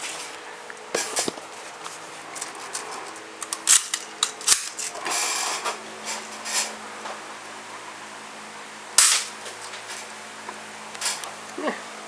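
A vintage Marksman Repeater air pistol being handled and fired, sharp mechanical snaps and clacks scattered among quieter clicks and shuffling, one louder crack standing out, close and dry in a quiet room.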